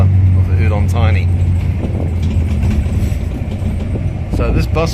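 A city bus riding through Udon Thani, its engine rumbling steadily close by while people talk over it throughout.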